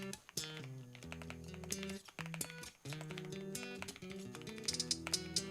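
Fast clattering keystrokes on a computer keyboard while coding a C++ OpenGL/Vulkan game engine, steady and close, set against a loud backdrop of tonal music.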